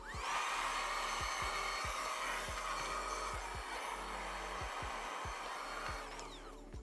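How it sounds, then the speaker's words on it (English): A vacuum cleaner drawing dust out of the inside of an Xbox 360 S, a steady close whirring drone with a faint rhythmic knocking underneath, tapering off near the end. "So I'm just going to do a quick vacuum."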